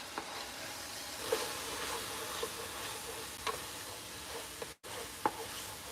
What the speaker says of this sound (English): Whisk our flour in.